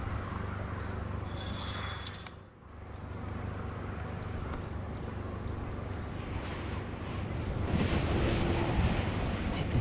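Strong wind buffets outdoors on the road from Punta Arenas to Puerto Natales. It roars loud and close against the microphone, with a brief lull and gusts building again near the end.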